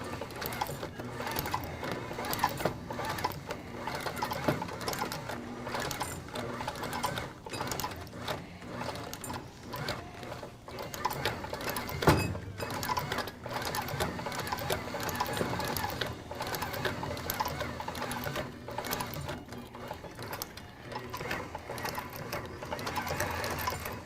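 A sewing machine stitches a repair on a skate tendon guard, running in a steady, fast mechanical chatter of needle strokes with brief pauses and restarts, close and moderately quiet throughout.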